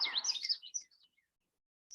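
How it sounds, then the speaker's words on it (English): Common yellowthroat, a black-masked male warbler of brushy marshy cover near water in Maryland, sings a rapid, high, chirpy phrase for about a second, then falls silent before another phrase begins faintly at the end. "The song can be described as witchety, witchety, witchety."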